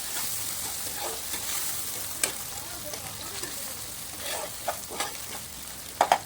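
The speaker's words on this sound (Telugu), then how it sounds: "ఈ విధంగా కలుపుకోవాలి" Chopped tomatoes stirred and sautéed in a frying pan, giving a soft steady sizzle with scattered scrapes and stirring clinks, a sharper pair of knocks near the end.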